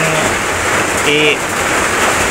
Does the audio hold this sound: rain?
yes